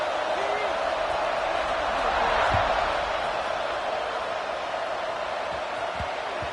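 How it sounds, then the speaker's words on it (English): Stadium crowd in an NCAA football video game, a steady broad buzzing roar filling the background after a score, with an announcer talking over it throughout. "this crowd is buzzing after that last score"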